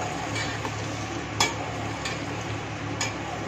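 Chicken, just under a kilogram cut into big pieces, frying in a handi on a medium flame: a steady close sizzle with a few faint clicks and stirs over it.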